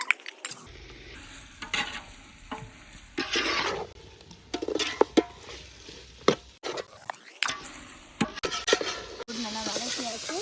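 Ginger garlic paste and masala sautéing in a pan for chicken biryani, bursts of sizzling and stirring with scraping utensil clatter and uneven, fairly loud pulses.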